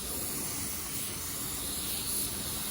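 A spray gun lays sealer onto a car bumper, giving a steady, loud, continuous hiss that runs without a break the whole time, with no voices.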